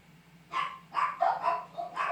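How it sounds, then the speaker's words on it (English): Several dogs barking indoors in a house, a run of five sharp, loud barks in quick succession over about two seconds, close to the microphone with no talk. "as you can hear, the dogs won't shut up"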